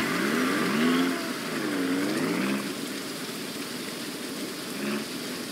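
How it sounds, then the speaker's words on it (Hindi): Steady rain hiss in the video game Ranch Simulator, with engine-like revving swells rising and falling in the first half, a brief faint whine near the end. "अभी ये बारिश हो रही है ना,"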